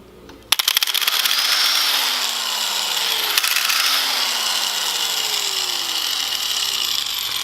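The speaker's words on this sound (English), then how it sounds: "So I got this grinder." An angle grinder starts with a sharp whine and bites into titanium motorcycle handlebars clamped in a vise, a loud, harsh sustained grinding whose pitch rises and dips as the disc loads and frees up.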